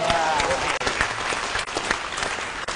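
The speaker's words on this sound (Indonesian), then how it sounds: "boleh tepuk tangan dulu semuanya teman-teman" Loud, steady applause from an audience fills the whole stretch, dense clapping with no pauses.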